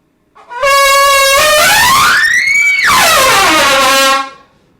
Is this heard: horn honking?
yes